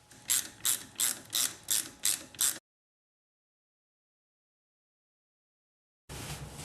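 Ratchet wrench clicking on 8 mm hose clamps for a radiator hose during a Nissan SR20DET engine swap into a 240SX, six evenly spaced loud clicks up close, then silence, then another burst of ratcheting.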